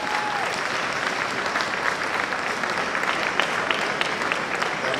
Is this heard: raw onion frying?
no